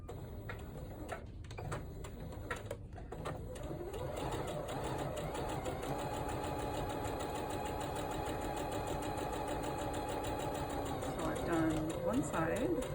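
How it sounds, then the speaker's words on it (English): A sewing machine stitches fabric bunting triangles together with a quarter-inch seam, humming steadily and faintly throughout at moderate distance, with a voice talking over it. "now I'm going to sew all these triangles together with a quarter inch seam"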